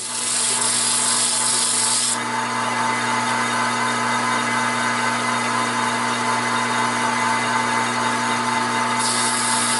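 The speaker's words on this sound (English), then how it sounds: "then do the sandpaper, sand it down" Steady, continuous rubbing of sandpaper on a wooden stool leg, close and fairly loud, with a constant hum underneath and no talking.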